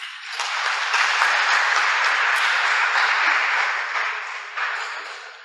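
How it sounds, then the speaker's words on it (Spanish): A steady, full round of applause from an audience at a Jesuit education event in El Salvador, sustained and even before easing slightly near the end. "para quienes pido un fuerte aplauso"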